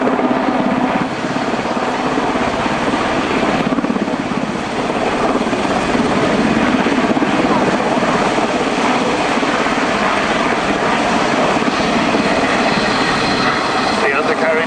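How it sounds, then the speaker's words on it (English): A Sea King helicopter's heavy rotor thump and engine drone hold steady and loud throughout, close overhead at an airshow, with a voice talking beneath the noise. "Wij volgen nu onze Sea King helikopter van het 40ste."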